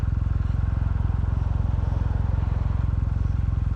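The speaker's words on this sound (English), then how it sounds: "Got my visor open, so wind noise should be a little higher." Kawasaki W800 motorcycle engine thumping at a steady, even pulse, close and loud, with wind rushing past an open helmet visor throughout and no talk.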